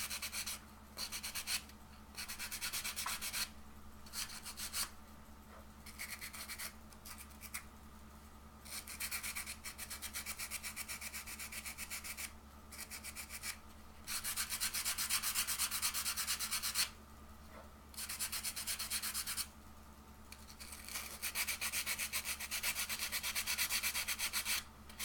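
Sandpaper is rubbed by hand along a cosplay wand in quick scratchy bursts with short pauses between strokes, faint and close against a low background hum.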